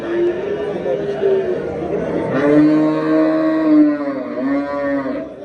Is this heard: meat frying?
no